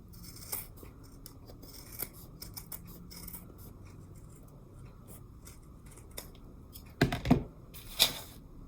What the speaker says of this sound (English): go ahead and trim off that excess fabric about a ½ inch from that seam